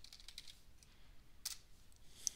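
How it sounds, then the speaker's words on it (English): Soft, quick keyboard taps typing a short word into an IRC chat client on a Linux computer, a few faint clicks in small clusters, close but quiet, without talking. "If you want to type something, you just simply type it."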